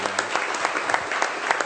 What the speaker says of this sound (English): round of applause for Gerry